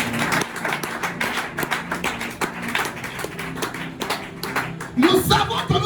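A congregation claps at a church deliverance seminar, with many irregular hand claps near and far and voices talking and calling out over them.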